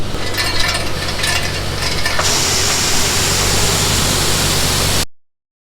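Grain flowing out by gravity while filling up a Case IH 8250 combine, a loud steady rushing hiss that runs for about five seconds before cutting off abruptly.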